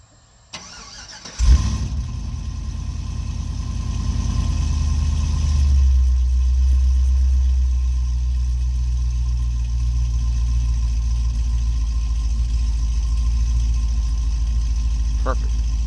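Cold start of a supercharged 2010 Cadillac CTS-V on an E85 tune with LT headers, X-pipe, stock mufflers and closed cutouts: a sharp crank-and-catch flare, then a steady, loud, deep idle that settles slightly lower.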